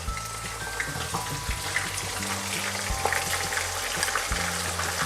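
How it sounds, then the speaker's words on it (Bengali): Bay leaf, three pieces of cinnamon, four cardamom pods and chopped onion fry in hot oil in a pan. The sizzle is continuous and crackling and stays fairly loud throughout, with a low hum underneath and no voices. "এবার এটাকে একটু ভেজে নিব"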